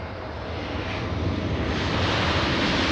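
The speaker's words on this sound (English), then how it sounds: "We have WestJet 1698 flying in from Vancouver, a 2-hour, 20-minute flight." A WestJet airliner arriving at Los Angeles International Airport from Vancouver produces a broad, steady engine rumble that grows gradually louder over a few seconds, with no one speaking.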